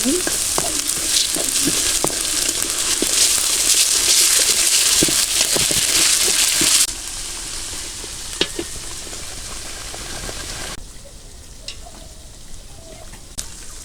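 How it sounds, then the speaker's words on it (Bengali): Chicken masala sautés with ginger and garlic paste, onion paste and cumin paste in a pan, giving a loud, dense sizzle that drops sharply in level partway through and again near the end, with scattered stirring clicks and no voices. "আদা রসুন দিয়ে ভালোভাবে কষান হয়ে গেছে"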